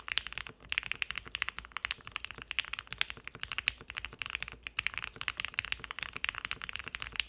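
Rapid, steady typing on a QK65 mechanical keyboard, dense clacky keystrokes heard up close and continuously, with no voices.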